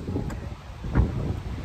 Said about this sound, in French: je sais pas si vous allez beaucoup m'entendre. Parce qu'il y a beaucoup de vent.